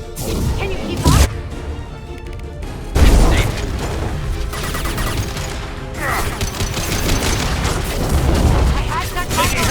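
Heavy gunfire and explosions in a Mass Effect 2 firefight, with sustained rapid shots broken by two loud concussive blasts, dense and close throughout.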